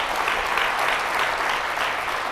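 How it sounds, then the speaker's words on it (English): Sustained applause from a school district audience at a speaking event fills the room, steady and dense clapping throughout with no voices over it. "Please give yourselves a big round of applause"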